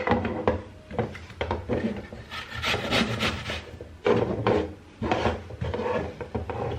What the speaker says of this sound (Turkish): Elmaların kabuğunu soydum. Şimdi hepsini rendeleyeceğim.